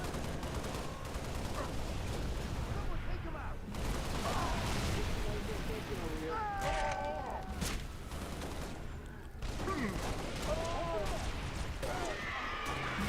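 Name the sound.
fuel rod cannon firing in the video game Halo: Reach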